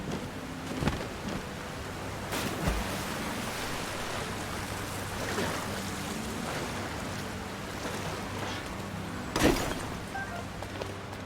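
A rushing waterfall in the video game The Legend of Zelda: Tears of the Kingdom, heard as steady broadband water noise with a few louder splashing bursts throughout.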